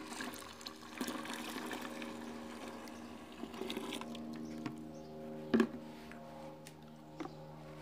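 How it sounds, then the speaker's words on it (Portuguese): Water is poured steadily into a homemade floor cleaner mixture with added fragrance, giving a close, continuous splashing patter that lasts throughout, with a few small knocks near the end. "E vou adicionar o restante da água."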